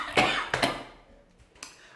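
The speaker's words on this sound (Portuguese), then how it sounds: "A minha tosse está semi-boa, como vocês viram." Several raspy coughs from a man, two close bursts followed by a softer third, near and alone in a quiet room.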